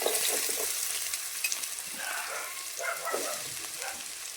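Onions sizzle steadily in hot oil in a pan for a spicy dried bombil masala, a continuous fizzing hiss with faint scraping from stirring and no voices.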